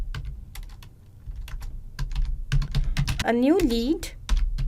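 Rapid keystrokes clatter on a computer keyboard as a message is typed, close and fairly loud, with a person speaking over the typing.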